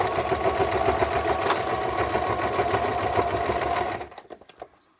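A sewing machine stitching cotton fabric runs steadily in a fast, even mechanical rattle close by, then slows and stops near the end, with no talk over it.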